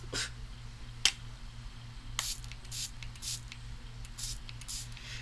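Short bursts from a spray bottle, several quick hissing squirts in an uneven rhythm, close and moderately loud over a low background hum.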